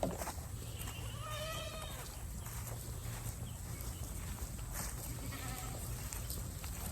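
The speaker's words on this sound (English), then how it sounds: "get these goats moved on over" Several goats bleat in an outdoor pen, with a few wavering cries early on and another later, over a constant low background hum.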